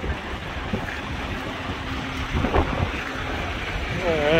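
Strong prairie wind in Nebraska or Iowa roars and buffets around a moving truck, a continuous loud rushing that swells toward the end, with an engine hum underneath.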